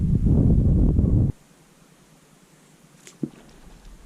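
Wind gusting across an alpine lake in the Colorado mountains, a heavy, close rumble of buffeting microphone noise for the first second, then dropping away to a quiet, hissing calm with one brief knock.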